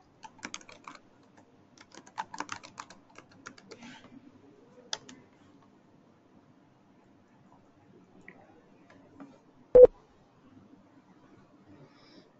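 Login details are keyed into a computer keyboard as a few quiet, scattered bursts of taps with long gaps, followed by one sharp, louder click near the end.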